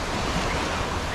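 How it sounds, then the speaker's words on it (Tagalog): Waves wash along a seashore where people are about, a steady, loud broadband rush of surf mixed with wind noise on the microphone, with no speech. "Pero ako naglalakad dito sa tabing dagat."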